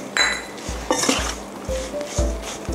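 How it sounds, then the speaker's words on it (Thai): Fried pork larb is tossed with crispy batter flour in a bowl, giving a few quick clinks and knocks of a utensil against the dish in short bursts, close by and without voices. "แล้วก็คลุกอีกครั้งหนึ่งนะคะสำหรับแป้งนะคะที่เราใส่ลงไป"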